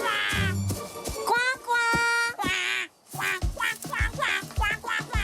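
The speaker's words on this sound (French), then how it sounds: "Ce canard criait et il continue de crier." A cartoon duck quacks loudly and repeatedly in a French animated Care Bears episode, giving rapid, nasal bursts with short gaps between them.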